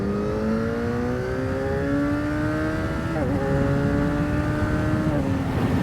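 Bimota KB4 motorcycle engine under way, a steady droning tone that climbs gradually in pitch as it accelerates, with two brief dips where gears shift, close and loud over wind noise.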